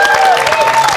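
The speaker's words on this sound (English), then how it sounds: "Have a big round of applause." A crowd at a fan event with Claudio Sanchez bursts into brief, dense applause and cheering. The sound is loud and continuous, with a thin tonal whine running over the clapping.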